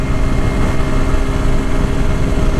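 A TVS Apache RTR 160 4V motorcycle engine runs steadily at high revs, a loud continuous droning roar up close with no talking, lasting a few seconds.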